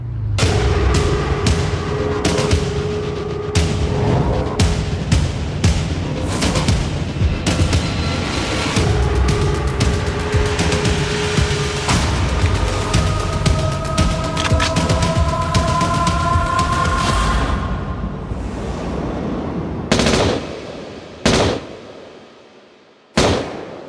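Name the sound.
gunfire, .45 caliber shots in a dramatization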